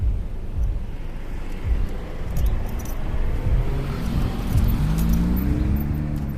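A car passes close by on a road during a walk, its low engine and tire rumble rising steadily and swelling in loudness toward the end, with no talking over it.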